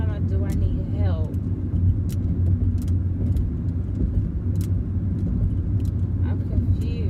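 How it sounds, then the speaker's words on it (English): Car engine and road rumble from inside a vehicle crawling through traffic on a delivery ride-along, a steady low drone running throughout with a voice speaking over it. "I'm stuck in traffic."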